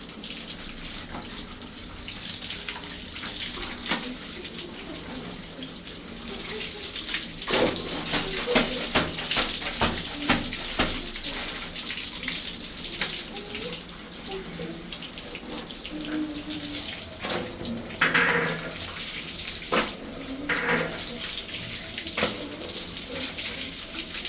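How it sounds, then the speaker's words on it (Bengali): Batik-dyed cloth rinsed under a cold running tap, water splashing and gushing steadily for the whole stretch with irregular sloshing as the fabric is worked by hand. "ঠান্ডা পানি দিয়ে ভালো করে ধুয়ে নিতে হবে, যতক্ষণ রং যায় ততক্ষণ এটাকে ধুতে হয়"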